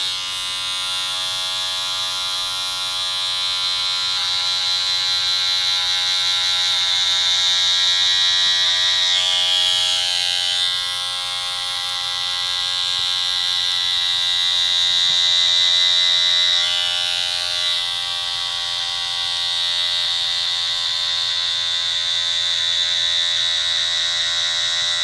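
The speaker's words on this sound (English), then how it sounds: "Clipper closed, start the fade." An electric hair clipper, blade closed, buzzes steadily while a high bald fade is cut, a close, continuous high-pitched motor whine that rises and dips slightly as it moves across the head, with no talk.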